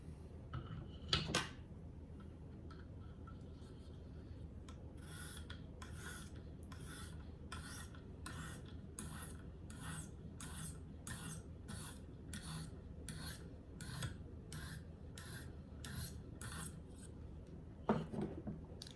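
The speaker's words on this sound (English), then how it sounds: "And I have the 1500 grit stone on there" A knife blade stroked along a 1500 grit sharpening stone, a rhythmic series of short raspy scrapes at an even pace, close and fairly quiet.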